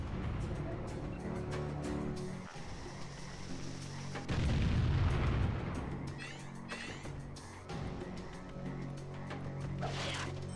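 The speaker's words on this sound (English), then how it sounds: "somebody's still throwing bombs" Explosions from bombs being thrown in The Hobbit (2003) video game, loud low booms peaking midway over a dense, continuous game soundtrack, with several sharper bursts scattered throughout.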